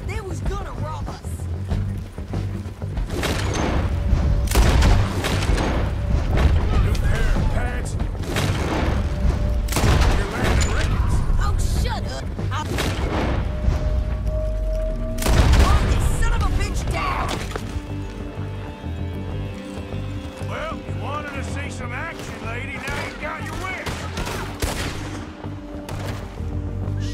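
A shootout in Red Dead Redemption 2 brings loud, repeated gunshots and booming blasts, spaced irregularly over a constant rumble of game sound, with shouting voices mixed in.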